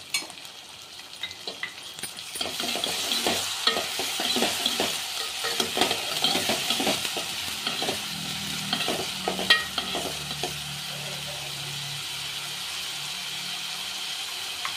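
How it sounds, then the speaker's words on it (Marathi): Onion frying with masala paste for a Rohu fish curry, a steady close sizzle with bursts of stirring and scraping in the pan, continuous and fairly quiet. "त्याला चांगलं तळू द्यायचा कांदा। आणि कांदा तळ त्याच्यासोबत पेस्ट पण टाकून द्यायची, ती पण चांगली तळून जाईल"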